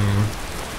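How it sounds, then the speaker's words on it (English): Steady rain patters on a surface in the video game Skyrim Special Edition, a brief even wash of falling drops with a low rumble fading at the start. "It's raining, but is it?"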